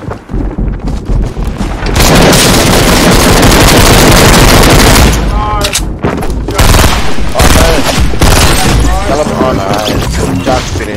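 Rapid, loud bursts of Fortnite gunfire sound close up, with dense automatic shooting and impact crashes filling most of the clip.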